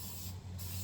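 A steady hiss of aerosol spray paint applying a second satin black coat to a Quintrex Dory 420 boat, continuous and close, with a brief dip midway and a low hum underneath.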